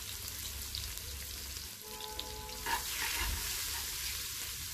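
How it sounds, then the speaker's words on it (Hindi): Chopped onion fries with cumin in a pan, giving a soft, steady sizzle. A brief stir comes partway through, and the sound stays low and close with no talking. "इसमें ऐड करेंगे प्याज कटा हुआ और इसको लाइट गोल्डन होने तक फ्राई करेंगे"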